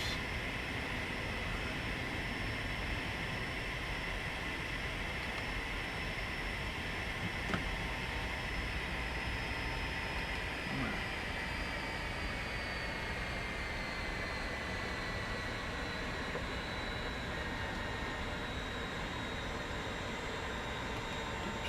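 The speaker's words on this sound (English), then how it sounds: "Alright, we drop the gears. Drop the flaps." Steady aircraft engine roar in a flight simulator on approach with gear and flaps lowered, a continuous even drone with no distinct mechanical clunks standing out.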